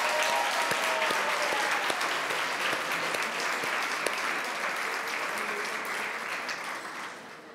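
Audience applause at an awards ceremony, dense clapping from a large room that carries on steadily and gradually tapers off, with a few sharper individual claps standing out.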